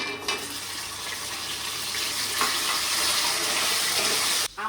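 Young hog plum pieces fry in a tempering of mustard seeds and dried red chili, a loud, dense, steady sizzle that runs unbroken nearly to the end, with no talking.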